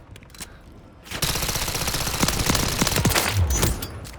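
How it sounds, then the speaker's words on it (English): A machine pistol fires in Call of Duty Modern Warfare 3: after a quiet moment, a dense, rapid burst of automatic gunfire breaks out and rattles on for about two and a half seconds before easing off. "this is like a machine pistol. Like it's shooting like a SMG"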